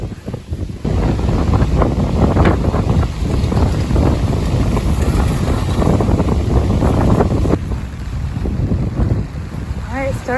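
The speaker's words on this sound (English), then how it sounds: "It's really windy" Strong wind on a beach at Coñaripe, Chile, buffets the microphone with a loud, continuous roaring rumble that barely lets up, and faint voices sit beneath the gusts.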